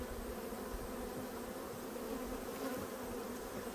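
Honeybees swarm around an open hive during a late-season inspection, a dense, steady buzz that hums close and continuous with no voices.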